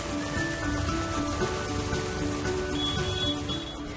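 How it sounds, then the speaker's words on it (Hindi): Pre-monsoon rain falls in Delhi, a steady dense patter on surfaces that continues evenly and fairly loud, with no voices over it. "उमस के बीच रुक रुक कर बादल बरस रहे हैं।"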